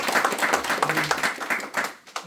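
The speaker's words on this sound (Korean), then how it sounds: "박수 한번 쳐줄까요?" An audience at a formal gathering gives a short burst of hand clapping, a dense patter of claps at moderate volume that thins out toward the end, with a voice speaking briefly over it.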